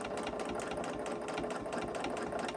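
A sewing machine runs steadily through fabric layered with batting, its needle mechanism making a fast, even mechanical chatter that continues close and unbroken throughout.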